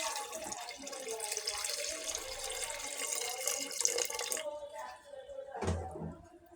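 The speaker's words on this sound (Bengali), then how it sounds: "ডাউলে আমি পানি দিয়ে দিলাম।" Water runs steadily into a pot of lentils for several seconds, a close, continuous splashing pour that stops abruptly, followed by a brief clatter.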